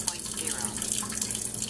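Water runs from a Kangen water ionizer at its fast flow rate, a steady hissing stream close by, with a person's speech faintly audible under the flow.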